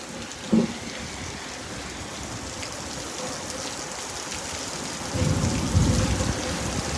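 Houston thunderstorm with steady rain hissing throughout, a brief thunder crack near the start and a deeper rolling rumble of thunder building toward the end.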